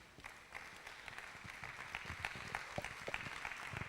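Conference audience applauding, a faint, steady wash of many hands clapping in a hall that stays continuous for several seconds, with a few sharper claps standing out.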